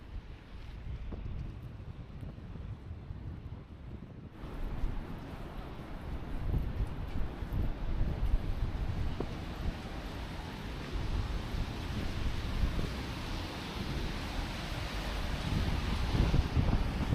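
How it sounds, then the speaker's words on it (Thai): Strong wind gusting through the city streets of Chicago, a loud, continuous roar buffeting the microphone that swells stronger partway through and keeps pushing on without letup. "ลมแรงมากเลยครับตอนนี้"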